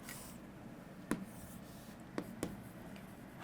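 Faint handwriting during a chemistry lesson, with a few brief scratchy pen strokes over a soft steady background hiss and no talking.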